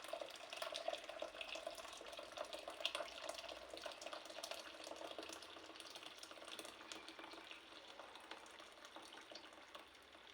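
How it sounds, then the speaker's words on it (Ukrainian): Hot boiled water is poured into a measuring vessel for blackberry liqueur. It makes a steady, soft, hissing splash that runs continuously and quietly for about ten seconds. "наливаємо гарячої кипяченої води."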